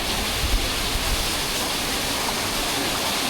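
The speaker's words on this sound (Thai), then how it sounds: "น้ำตกสาริกานครนายก" Sarika Waterfall in Nakhon Nayok, Thailand, a dense, constant roar of rushing water filling the scene, steady and loud without pause.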